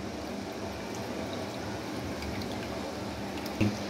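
Blended mint lemonade with lemon juice, ice and water is strained, giving a steady soft trickle of liquid running through a strainer for several seconds, close and even, ending with a small knock.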